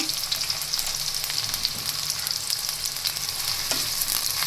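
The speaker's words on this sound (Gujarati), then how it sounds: "તેલ આપણું ગરમ થાય એટલે સૌથી પહેલાં આપણે તેમાં ડુંગળી એડ કરી દઈશું" Onion fries in about three spoons of hot oil in a kadai, with a close, steady sizzle and scattered sharp crackles.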